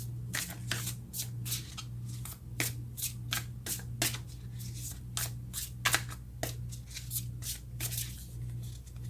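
A deck of tarot cards is shuffled by hand in a quiet room, giving a close, crisp run of rapid riffling bursts and soft card slaps repeated in an irregular rhythm over a low steady hum.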